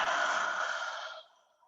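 A single slow exhale during yoga breathing, a breathy airy rush that starts strong, then tapers and fades out over under two seconds, close and alone.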